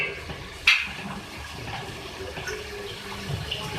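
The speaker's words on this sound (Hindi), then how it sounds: "2 गिलास इसके अंदर मैं पानी ऐड कर रही हूँ गोश्त को गलाने के लिए।" Water splashes and runs steadily into a pot of beef karahi after a brief clink, a continuous pouring wash close by.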